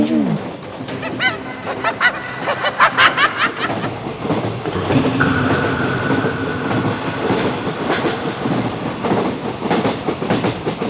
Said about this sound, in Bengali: রাতের শেষ ট্রেন শিয়ালদাহ গেদে লোকাল।